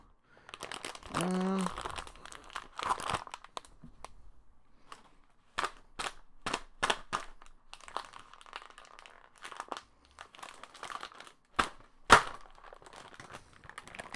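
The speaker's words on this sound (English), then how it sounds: "now that I've used a pen to open the bag because I forgot to get scissors" Plastic crinkles and crunches as a bag is poked and torn open with a pen, a quick burst of rustling followed by scattered sharp crackles and snaps.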